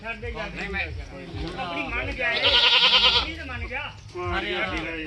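A goat bleats once, loud and close, amid people talking nearby at a goat market; the talk carries on around the bleat.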